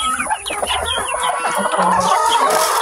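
Farm chickens clucking and calling continuously in a busy, noisy flock, with a rooster-like crow mixed in among the dense chatter of fowl at close range.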